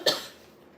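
A single short, sharp cough from one person, close by, fading quickly into quiet.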